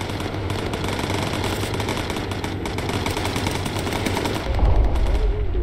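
Machine guns fired by bomber gunners in the game Bomber Crew chatter in long, steady bursts over a droning engine, loud and close, with a deeper rumble swelling near the end.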